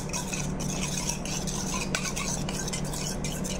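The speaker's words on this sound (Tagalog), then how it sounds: "I-mix natin to." Ingredients being stirred and mixed in a bowl for oven-baked fish, a continuous scraping, swishing rhythm of a utensil against the container, close and fairly loud with no talking.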